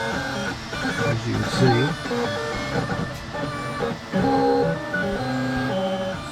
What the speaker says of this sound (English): Alright, so here it is, starting to print.